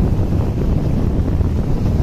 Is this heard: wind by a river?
yes